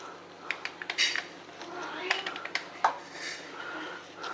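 Light knife taps and clicks against a board as strawberries are cut, irregular and close, with faint clinks of utensils in a quiet room.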